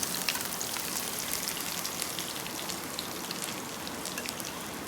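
Onions frying in hot mustard oil, a steady, soft, crackling sizzle with scattered pops, fairly quiet and even, with no voices.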